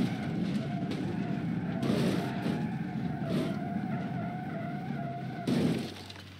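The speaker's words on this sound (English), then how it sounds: "That's the pickup truck coming down there quite fast and impact at 220" A pickup truck hurtles downhill and slams into a car at 220 km/h in the BeamNG Drive driving game, with loud continuous engine roar and skidding tire noise, rising into a heavy crash burst near the end.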